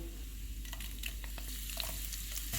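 Garlic sizzles steadily in hot oil, close up, with crisp spattering crackles and some stirring sounds throughout.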